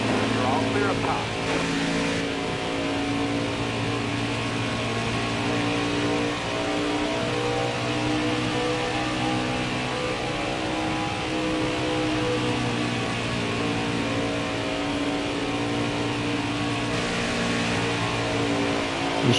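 NASCAR Craftsman trucks racing under the lights at Las Vegas Motor Speedway, engines droning loud and continuous with steady pitched roar and shifting tones as the pack passes, with radio talk over it.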